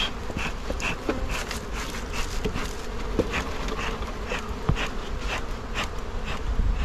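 A dense, steady buzzing of a honeybee swarm being captured fills the air continuously, close and loud, with scattered sharper wingbeat flickers and no voices.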